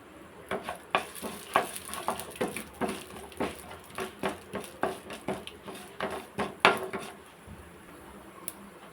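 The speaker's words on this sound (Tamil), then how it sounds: "உளுத்தம்பருப்பு சேர்த்து நல்லா பொன்னிறமாக பொரியட்டும்" Urad dal and mustard seeds fry in hot oil in a pan, a steady sizzle broken by a regular series of sharp popping crackles and light stirring clinks, fairly close, with no talking.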